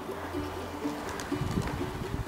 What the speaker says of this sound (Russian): Смотри, сколько голубей.